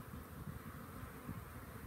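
Honey bees buzz in a steady, close drone while a beehive is opened and worked, a continuous hum without pauses.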